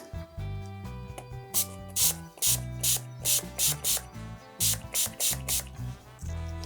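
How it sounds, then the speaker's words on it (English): Short bursts of hissing water spray from a hand pump onto a card model building, repeated in quick pulses over a steady musical background. "I'm going to spray the model with a little bit of water."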